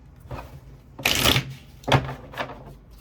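A deck of tarot cards is shuffled by hand in several quick riffling bursts, with the longest and loudest in the middle and shorter flicks after it. The sounds are close and clear, with no talking.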